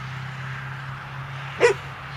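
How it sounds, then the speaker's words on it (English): A hungry stray dog lets out one short whimpering yip near the end, heard over a steady low hum. "You can see the dog's kind of hungry"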